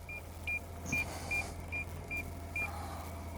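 A Toyota Land Cruiser 300 engine idles with a low steady hum while crawling off-road, as a high electronic beep repeats at a regular pace, about twice a second.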